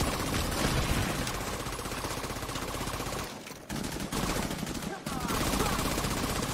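Sustained rapid gunfire from a friendly turret in The Division 2, dense and loud throughout, with brief dips near the middle, over continuous game noise.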